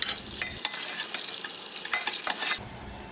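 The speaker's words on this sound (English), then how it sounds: "Stir in the garlic and cook for a minute." Garlic frying in melted butter in a pan, stirred with a utensil, giving steady close sizzling broken by a few sharp scraping and clinking stir strokes, with no talk.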